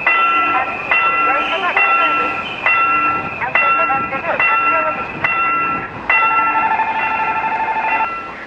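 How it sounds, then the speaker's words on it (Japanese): A train passing a railway level crossing in Korea, its steady rumble running throughout with a sustained bell-like crossing signal tone ringing over it, loud and close, with people talking nearby. "韓国の踏切はこんな感じなんですね。"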